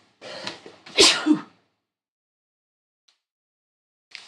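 A single loud sneeze with a sharp intake of breath before it, close to the mic, followed by silence.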